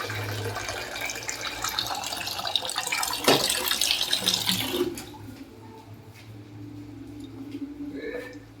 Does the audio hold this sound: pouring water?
yes